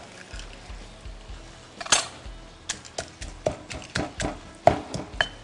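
Chilies pounded in a mortar: repeated sharp knocks, irregular and close, with a hard woody thud each strike and light clatter between.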